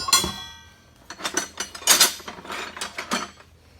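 Metal Mac wrenches, among them an inch-and-an-eighth size, clink and rattle against each other as they are handled, a close, irregular series of bright jingles and knocks with no talking.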